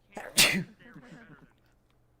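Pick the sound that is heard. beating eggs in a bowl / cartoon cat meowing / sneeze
sneeze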